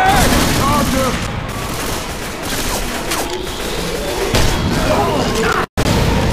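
Rapid bursts of gunfire in Left 4 Dead 2, loud and near, with dense overlapping shots and mechanical clatter alongside game effects.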